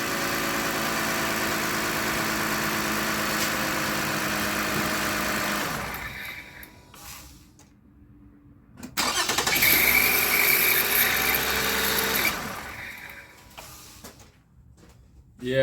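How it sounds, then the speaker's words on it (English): Running Toyota Avalon engine with a failing alternator clutch pulley makes a steady, close mechanical whir and rattle. It drops away, then returns loudly with a sharp restart-like surge before cutting out again. "Oh, yeah, the clutch pulley. That's exactly what it sounds like. The clutch may be failing."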